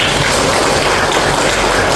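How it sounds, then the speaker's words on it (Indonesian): Classroom pupils clap together in a loud, dense, continuous patter with no distinct individual claps and no talking over it. "beri tepuk tangan untuk kalian"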